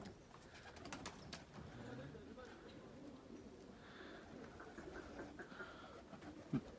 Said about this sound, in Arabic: هاي جت الحمام